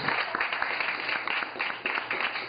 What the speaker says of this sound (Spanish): démosle el aplauso a Julia Rita